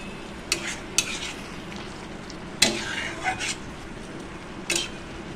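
An onion and poppy seed paste is stirred in a pan with a little water. A low simmering bubble runs underneath, and a few sharp clinks and scrapes of the spoon stand out against it.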